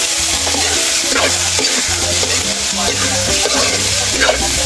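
Pork sautés with garlic and onion in a hot pan, a loud close sizzle with stirring scrapes, while a low hum and a faint voice sit in the background.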